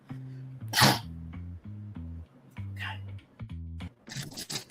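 A single loud, sharp sneeze bursts out between stretches of speech, standing out clearly above the talking voice.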